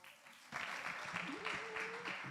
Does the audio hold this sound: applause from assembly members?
yes